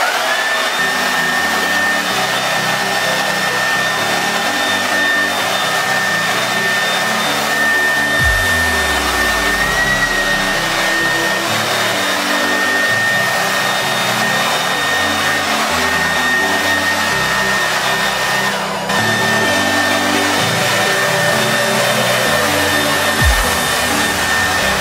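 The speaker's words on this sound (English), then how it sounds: "I'm stealing this technique of blow drying and moving your hair straight back" A hair dryer roars steadily and close as a boy's hair is blow-dried straight back, its high motor whine constant throughout with small shifts in airflow as it moves.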